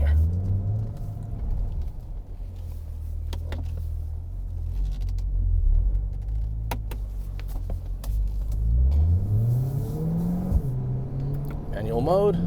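A 2022 Chevrolet Corvette C8 Z51 pulling through a slow U-turn on a thawing road, its engine a low steady rumble with brief revs rising and falling, heard from inside the cabin.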